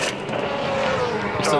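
A race car engine gives a throttle blip during a pit stop while waiting on fuel at the 2011 Darwin Triple Crown. It is a steady, loud engine drone under continuous talk, rising briefly near the end.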